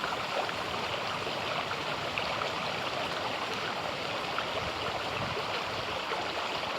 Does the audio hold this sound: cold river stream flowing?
yes